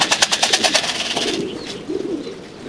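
Pigeons startled on a street take off in a burst of rapid wing flaps, then give a few soft coos and rustles that fade out.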